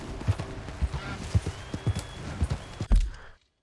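A horse gallops in Red Dead Redemption 2, its hooves thudding in a steady, driving rhythm up close. The hoofbeats stop abruptly at the end.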